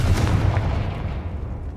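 Confringo fire spell blasting in Hogwarts Legacy, a deep booming explosion with a rumbling low tail that fades over under two seconds.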